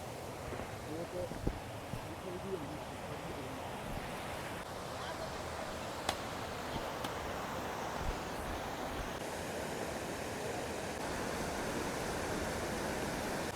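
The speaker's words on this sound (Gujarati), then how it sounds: "જો સરસ મજાની નદી આવી ગઈ છે." A forest river runs with clear water in a steady, broad wash that keeps going the whole time, with a few faint clicks and knocks over it and no voices.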